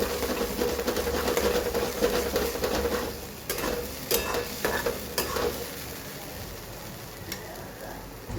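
Tomato puree bubbles and sizzles in a pan while a spoon stirs it, giving a steady frying hiss broken by several sharp scraping knocks against the pan.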